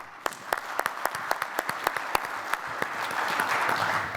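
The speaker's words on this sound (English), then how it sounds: "Please join in a warm round of applause to welcome the panelists" At a conference on quality management, an audience claps to welcome the panelists, starting as distinct sharp claps at a moderate distance and then swelling into denser, steadier applause.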